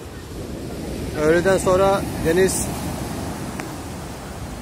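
Rough, storm-driven sea waves on a beach at Antalya in rain, a constant broad wash of surf and wind noise, with a voice speaking briefly over it partway through.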